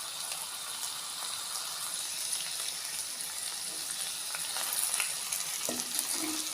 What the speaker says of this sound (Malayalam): വെന്ത ശേഷം ഇതിലേക്ക് ഒരു തണ്ട് കറിവേപ്പിലയും കൂടെ ഇട്ട് കൊടുക്കണം.